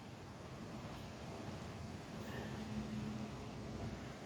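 Steady, even rushing of waterfall rapids, a continuous broadband roar at moderate distance with no break or talk.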